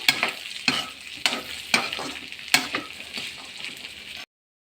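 Grated coconut being stirred through chickpea prasadam in a hot pan, with a steady soft sizzle and a series of distinct spoon scrapes and clacks against the pan about every half second, close up and alone.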